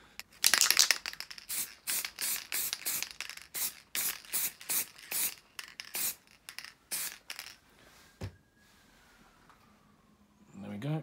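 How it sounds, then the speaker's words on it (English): Matte lacquer sprayed from an aerosol can onto a prop gun in a quick series of short, close, hissing bursts, about a dozen in a row, then a pause with soft handling noise and a final burst. "I'm just going to put some matte lacquer on it"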